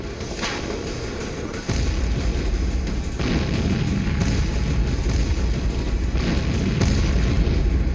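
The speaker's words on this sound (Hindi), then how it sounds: "इस आर्टिलरी गन की गर्जना सुनो।" A DRDO advanced towed artillery gun, 155 mm with 52 calibre barrel, fires with heavy booms, each followed by a deep rolling rumble that lingers through the rest of the clip.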